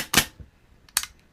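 A G&G/Army L85 airsoft rifle with an HPA engine fires two sharp single shots in semi-auto, spaced under a second apart, crisp and close with quick decay.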